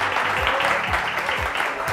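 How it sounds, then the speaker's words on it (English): Audience applause for a startup demo day operations team, a steady wash of clapping filling the whole stretch, fairly loud with faint low voices underneath. "Please, a big round of applause for both of them."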